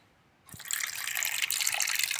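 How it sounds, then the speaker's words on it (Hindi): Milk is poured out for a pet, starting abruptly after a quiet moment as a soft continuous splashing stream, close and fairly faint. "अब डालूंगी ना मैं इसको, दूध डालूंगी फिर पिएगी"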